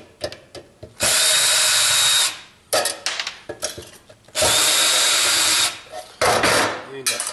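A power drill backs Phillips screws out of the casing of a car computer, with loud whirring bursts of about a second and a half broken by quieter clicks and handling noises, close by.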